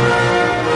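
A Jurassic Park custom ringtone plays as a short, loud, sustained musical phrase of layered tones, heard alone and close.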